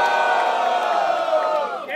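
Crowd at a rap battle roaring and whooping in one sustained, loud wave of cheering that holds steady, then dips as it fades out.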